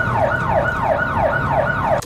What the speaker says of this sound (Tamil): இப்ப வந்து பின்னாடி அந்த ஆம்புலன்ஸ் சவுண்ட் மாதிரி கேக்குது பாருங்க,